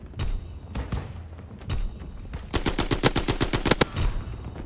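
Gunfire from the video game Call of Duty WW2 opens with a few spaced single shots, then breaks into a rapid automatic burst of sharp, evenly spaced cracks, loud and close.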